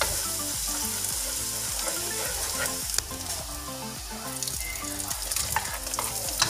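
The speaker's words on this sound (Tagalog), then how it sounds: "Ginisa lang sa sibuyas, bawang." Onion and garlic sauté in a pan for a beef-and-corn dish, a continuous close sizzle and crackle with occasional stirring, heard over background music with a regular pulsing beat.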